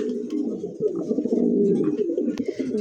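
Pigeons, including Lahori birds, coo steadily in low, throaty murmurs, several birds overlapping close by, with a faint sharp chirp near the end.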